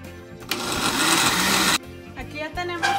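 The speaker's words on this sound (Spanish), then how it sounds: "Ahora sí, vamos a moler para hacer el chile." A kitchen blender grinds garlic, cumin and black pepper for a chili sauce, a loud steady whirring roar that runs for over a second and then cuts off, followed by brief clatters and voices.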